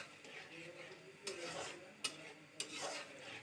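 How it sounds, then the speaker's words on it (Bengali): Quiet sizzle of spice paste frying in a pan, broken by a few sharp taps and scrapes from stirring, close and faint, with no voices. "মশলাটা ভালো মতো কষে আসলে"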